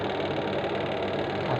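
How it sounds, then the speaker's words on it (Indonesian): Steady mechanical hum of a washing machine motor running and spinning during a repair check, a constant near drone with no breaks. "bunyi putaran mesin juga"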